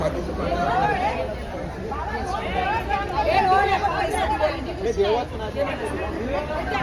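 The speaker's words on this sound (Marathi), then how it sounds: "गर्दी बघा इथं" Dense crowd chatter at a busy fish market, many overlapping voices forming a steady close hubbub with occasional louder calls.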